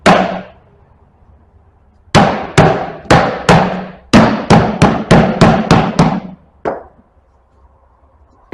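Sharp metal hammer blows on bearings of a John Deere 1710 planter: one strike, a pause, then a run of about ten evenly spaced loud ringing hits and a final lighter tap, close and alone.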